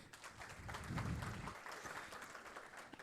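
Audience at a conference on the ecological transition and French industry on the CESI Nanterre campus applauding a speaker, a faint, steady patter of many hands clapping for about three seconds.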